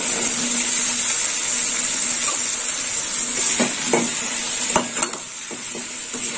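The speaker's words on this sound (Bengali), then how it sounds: "এবার দিয়ে দেবো সেদ্ধ করে রাখা এঁচড়।" Boiled green jackfruit hits hot oil in a pan with salt, giving a steady sizzle with a few stirring scrapes and clinks of a utensil against the pan, no voices.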